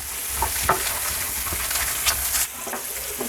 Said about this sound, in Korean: 파프리카와 양파가 너무 볶아지면 식감이 별로이기 때문에 약 1분 정도만 볶아줄게요.